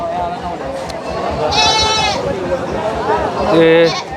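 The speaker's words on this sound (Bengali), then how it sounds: "এদিকে আবার ছাগল রয়েছে বেশিরভাগ" Goats bleat loudly a few times, close by, over a busy crowd of voices and chatter at a livestock market.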